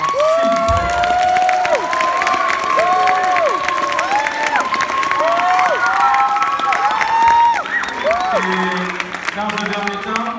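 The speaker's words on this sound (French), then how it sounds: "j'aimerais une dernière fois qu'on puisse les applaudir parce qu'ils ont bûché" Loud cheering and applause for students at a school gathering, many voices shouting and whooping with whistles over steady clapping, sustained throughout.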